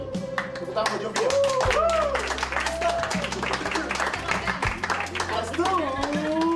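A film-crew wrap gathering after an album video shoot is heard through scattered hand clapping from a small group. It runs alongside music with sliding melodic tones and ongoing voices, loud and fairly close throughout.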